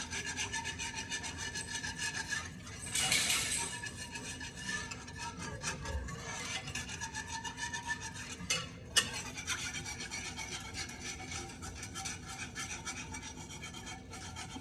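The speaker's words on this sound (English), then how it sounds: "Stir it till it comes to a boil." A spoon scrapes and rubs steadily through thick mac and cheese sauce in a pot, a soft, close, continuous rasping stir with no talking, and a brief louder swish partway through.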